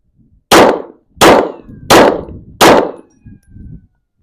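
Sig Sauer P320 AXG metal-frame pistol fired at an outdoor range, four sharp loud gunshots at an even pace about seven tenths of a second apart, followed by faint rattles.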